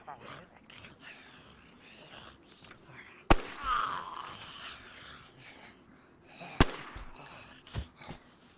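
Two sharp gunshots fired at a stag zombie in the DayZ video game on Deer Isle, a few seconds apart, with a fainter third crack later, over quiet background murmur.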